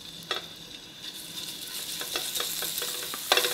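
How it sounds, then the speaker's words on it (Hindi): Ginger garlic paste fries in hot desi ghee with a close, steady sizzle, broken by the scrape and clatter of stirring at irregular moments. "अदरक लहसुन का पेस्ट डाल दें"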